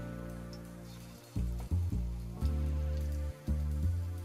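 Mutton keema masala vadas sizzle steadily in hot oil, a dense crackling hiss broken by sharp bursts as each new piece drops in, close and fairly loud with no talking.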